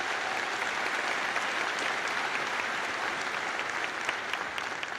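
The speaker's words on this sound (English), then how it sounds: "So I would like to get a round of applause for Dr. Bell for 10 years of tremendous serv" A commencement audience at the University of Alabama applauds in a continuous, even wash of clapping from a large crowd, heard at a distance and held steady throughout.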